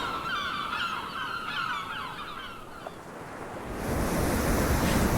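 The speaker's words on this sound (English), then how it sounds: "Gulls screech and glide on a breeze." Seabirds call in repeated harsh cries over the wash of rough surf, then the waves swell louder and cover the calls.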